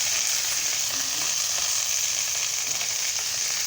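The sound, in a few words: frying in a pan before adding chopped red amaranth greens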